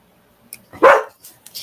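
A small dog named Scooter lets out a single sharp, close bark at someone arriving at the door, with brief faint sounds before and after.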